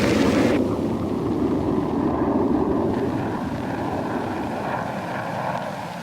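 A-6 Intruder attack aircraft flying, a loud steady jet roar that fills the whole stretch and slowly fades a little toward the end.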